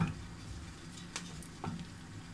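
Kuymak is gently stirred in a pan, a soft scraping and sizzling sound close up, with a couple of light utensil clicks and no talk.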